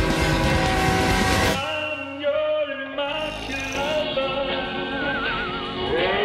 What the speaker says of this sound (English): Why is the train going so fast?